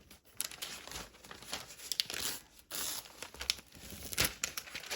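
Paper backing peels off a handmade craft key chain in several crinkly, tearing bursts, close and fairly quiet, with no one talking.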